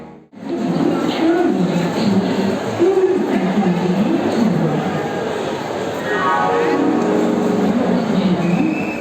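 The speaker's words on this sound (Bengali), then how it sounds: "অবশেষে আমরা ট্রেনের দেখা পেলাম।" A train pulls into a station with a loud, close, continuous rumble and clatter, and high metallic wheel squeals rise toward the end.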